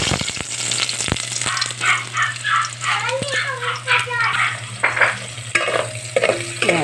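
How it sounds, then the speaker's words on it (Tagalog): Garlic sizzles and is stirred in a hot pan as the first step of chicken tinola, a steady frying hiss with scraping stirs while someone talks over it. "Magigisa na po tayo ng bawang."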